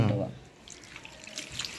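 Water splashes briefly into a bowl of salted beetroot set to soak for a Jaffna-style beetroot varai, then settles into a softer trickle, with a voice speaking faintly nearby.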